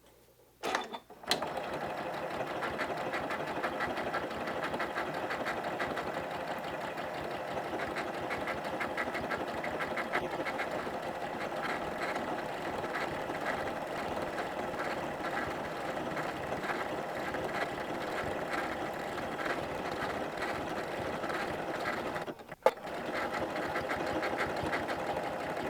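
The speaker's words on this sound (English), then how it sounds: "now I'm going to start stitching out that cute little tree design" A sewing machine stitches a Christmas tree design onto a placemat, a fast, even mechanical whirr running steadily for about twenty-five seconds, briefly pausing near the start and again close to the end, with no talking.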